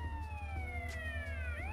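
An ambulance siren in GTA San Andreas wails with smooth, falling tones, then sweeps back up sharply near the end. It sits clear and fairly close over a low engine hum.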